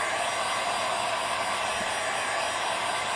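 A heat gun blows continuously with a steady, loud airy rush while heating vinyl tint wrap on a car light, holding an even level from start to finish with no voices.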